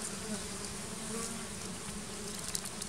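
Wasps buzz steadily around their nest, a continuous close insect drone filling the whole stretch with no voices.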